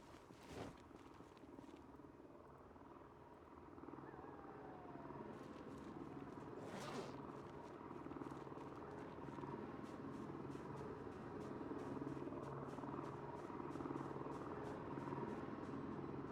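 A video game helicopter drones in a low, steady rotor hum that builds gradually and stays fairly faint, with a couple of sharp clicks near the start.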